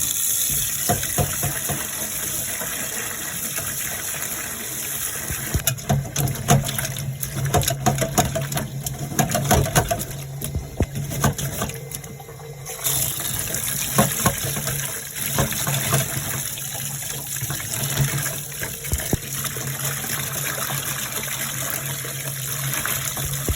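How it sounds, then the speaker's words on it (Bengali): Salted poa fish washed by hand under running water, a steady close rush of tap water with splashing and handling sounds throughout. "পুরা মাছটা আমি সুন্দর করে লবণ মেখে নিয়েছি, এখন আমি ধুতেছি।"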